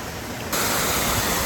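A waterfall's steady broadband rush fills the scene, quiet at first and then jumping abruptly to a loud, constant roar about half a second in, with no voices.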